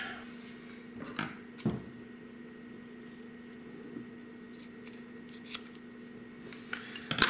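Scissors snip through a Paracord 550 lanyard cord, a few short, sharp clicks spaced apart over a faint steady background hum.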